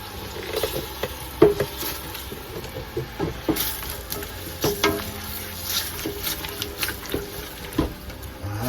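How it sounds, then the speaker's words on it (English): Anchovies, onions, habanero and garlic frying in a pan get stirred, giving a soft, continuous sizzle with scattered scraping taps from the utensil at irregular intervals, close by and fairly quiet. "then we'll stir that stuff up. Break up those anchovies."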